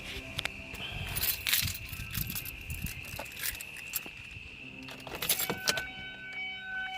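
Car keys jangle and rattle close by in two bursts as someone tries to start a car, with a faint mechanical whine underneath.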